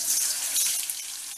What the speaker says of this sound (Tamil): இப்போ உருளைக்கிழங்க ஃப்ரை பண்ணி எடுத்துருவோம்.